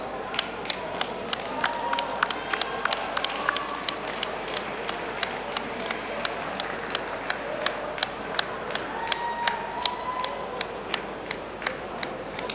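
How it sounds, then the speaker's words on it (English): Crowd at a cage fight applauding both fighters, steady clapping with sharp hand claps spread across the room, moderately loud and continuous throughout with faint voices mixed underneath. "let's have a continued round of applause for both fighters in the cage this evening"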